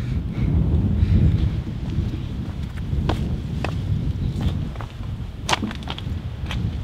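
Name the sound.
wind blowing through the metal of an abandoned ship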